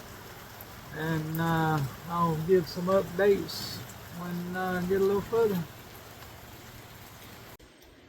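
Rain falling outdoors as a steady, soft hiss of drops on surfaces, running beneath a man's speech for most of the stretch and briefly cutting out at the very end.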